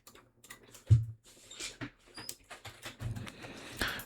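Typing on a computer keyboard comes as a short burst of irregular, close key clicks and taps, with a few louder strikes among softer ones.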